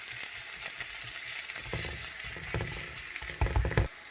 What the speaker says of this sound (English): leeks to the garlic and ginger. I'm just going to cook them down till they're a little bit transparent.